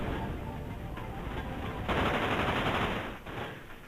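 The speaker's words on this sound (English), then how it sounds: "Watch what happens to Vincent's fire rate" Rapid automatic gunfire from Vincent's gun in the Dirge of Cerberus video game, a dense continuous burst of fast shots at moderate level that swells briefly in the middle before tapering off, with no talking.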